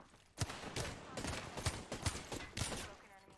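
Wingman pistol shots crack in rapid succession during an Apex Legends fight, about six sharp reports spaced roughly half a second apart, with other gunfire mixed in.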